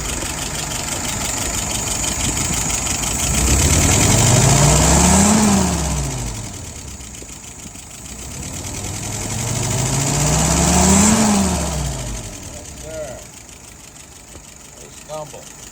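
A car engine idles, then revs up and settles back down twice in a slow rise-and-fall pattern during a tune-up, loud and close, with a steady running note between the revs.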